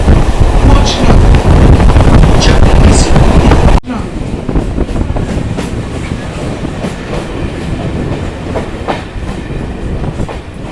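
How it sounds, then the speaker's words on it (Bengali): Sealdah–Bangaon local train running after leaving Sanhati station, a loud steady rumble of carriages with rhythmic clatter, abruptly dropping to a quieter interior drone partway through, with wind noise and intermittent talking. "আমাদের ট্রেনটা সংহতি স্টেশন থেকে ছেড়ে দিল"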